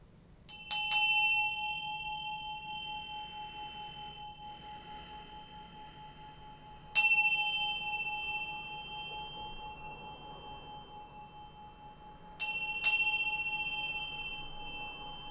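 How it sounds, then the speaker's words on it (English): A bell is struck three times at roughly six-second intervals, each clear metallic ding ringing out and slowly decaying over a quiet background. "let's ring the bell and then let's get this going"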